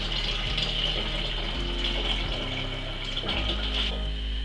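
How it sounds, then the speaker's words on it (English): Steady warm water running from a tap, a continuous hissing gush with a low hum underneath, close by and fairly loud, no talking. "I'm just using warm water from the tap."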